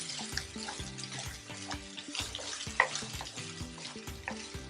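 Okra and bacon stew being stirred in a pot, with soft repeated scraping and gentle bubbling sizzle in an uneven rhythm, close and fairly quiet, no voices.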